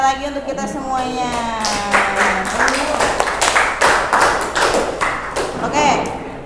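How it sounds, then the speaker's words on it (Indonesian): Students applaud in a classroom: a voice speaks briefly, then many quick, close claps rattle together for several seconds before thinning out. "tepuk tangan sekali lagi untuk kita semuanya"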